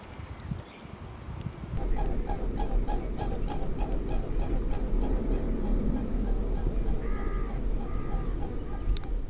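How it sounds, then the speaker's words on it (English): A mute swan flies along a river at twilight, its wingbeats throbbing in a steady, rhythmic pulse over a continuous low rumble, with a few distant caws and honks scattered through. "Mute swan in flight."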